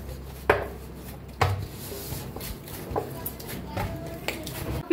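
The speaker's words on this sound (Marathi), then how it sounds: "आता थोडं थोडं पाणी ओतून पीठ मळून घेऊया" Dough is kneaded by hand as water is poured in little by little, giving soft rubbing and a few dull thumps and slaps at close range, with no talk.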